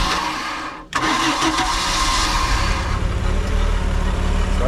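Boat engine cranking and then catching, with a short grinding start giving way to a loud, steady, rumbling run at close range, with no talking.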